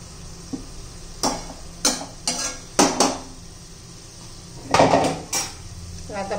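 A spatula spreads masala across a hot tawa over low heat for an egg masala fry, making a series of distinct scraping and clinking strokes with quiet pauses between them.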